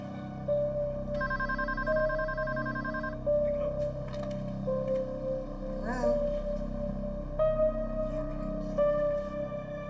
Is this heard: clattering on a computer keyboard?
no